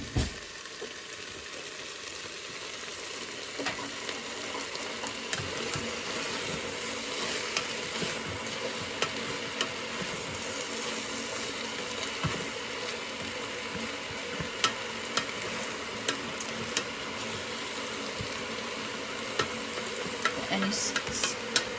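Soft scraping and stirring of mushroom risotto in a Cosori pressure cooker pot, with light ticks and a faint sizzle underneath, steady and close throughout.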